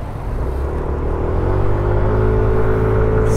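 A 2022 Yamaha Nmax 160 scooter accelerates, its engine note climbing into a steady rising whine over a constant road rumble, with no talking.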